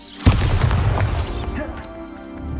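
A Confringo fire-blast spell in Hogwarts Legacy erupts as a single loud boom, then rumbles and fizzles away over about two seconds.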